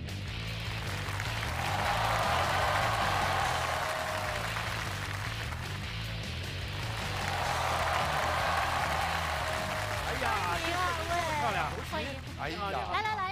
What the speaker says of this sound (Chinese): 首先让我们掌声请出两位队友的远道而来的救兵登场